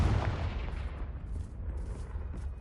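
A Confringo fire spell bursts in Hogwarts Legacy, a loud booming blast at the outset that decays into a rumbling, crackling tail over about two seconds, with no voices.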